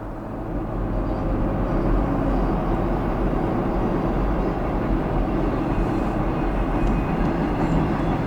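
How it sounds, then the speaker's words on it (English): A Norfolk Southern freight train rolls steadily past with a continuous low rumble and rattle of cars, loud and close, without talk. "we got a Norfolk Southern train rolling along here"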